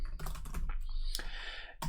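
Rapid keystrokes rattle on a computer keyboard while code is entered in AL for Business Central, a close, busy run of clicks with short pauses and a final tap.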